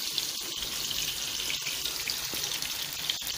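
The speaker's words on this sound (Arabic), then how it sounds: "انا حنبدا نقلو البوراك هنا انا درت زبده وزيت" Bourek pastry sizzles in a pan of butter and oil, a steady hissing crackle with scattered pops and small clicks throughout.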